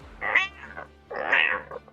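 A cat gives two close, clear meows about a second apart, the second longer and louder, with quiet between them.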